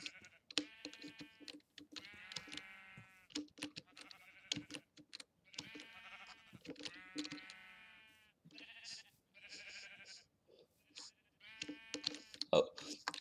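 Sheep in a Minecraft game bleat over and over in quick bursts, several overlapping calls, fairly faint throughout with a click near the end.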